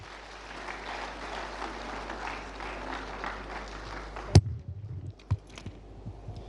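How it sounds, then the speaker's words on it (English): An audience claps for a newly elected assembly member at a community celebration, steady applause that cuts off abruptly and leaves a few scattered knocks and thuds. "Let's clap for her."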